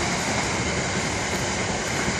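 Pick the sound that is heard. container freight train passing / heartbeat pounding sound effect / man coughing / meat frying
container freight train passing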